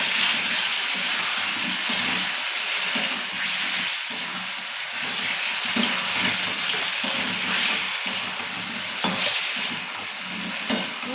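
Spice paste frying in a pan, with water added, giving a steady, close hiss and sizzle with light stirring scrapes and occasional louder spits; no voices.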